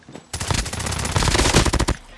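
Video game gunfire: a sustained, loud burst of rapid automatic shots lasting about a second and a half, close and alone.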